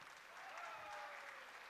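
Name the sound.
audience applause after a talk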